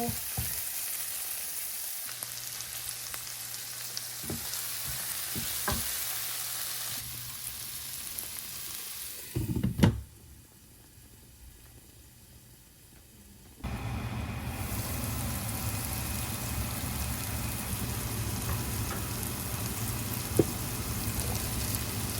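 Tomatoes sautéing in a pan for ginisang upo with sardines, a steady loud sizzle and crackle that drops away briefly, then returns at full strength.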